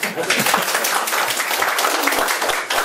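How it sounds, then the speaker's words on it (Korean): A lecture audience at a stock-investment seminar breaks into applause, a dense, continuous wash of clapping from many hands, fairly loud and sustained throughout, with a voice faintly mixed in. "자, 그러면 이 정도 되면 박수 한번 쳐볼까요?"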